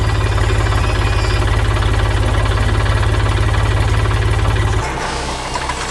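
Green farm tractor engine running close and loud in a garden setting, a steady low rhythmic chugging that shifts to a rougher, lower beat near the end, with no voices.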